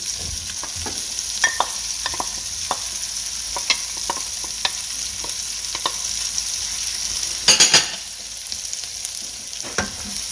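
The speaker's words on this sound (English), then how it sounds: "I'm just going to saute everything. Just cook it until the vegetables are soft." Chopped baby bella mushrooms and onion sautéing in a pan, a steady close sizzle broken by scrapes and taps of a utensil stirring, with one louder clatter near the end.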